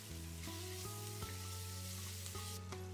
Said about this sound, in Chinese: 倒入辣椒和蒜苗，翻炒出香味儿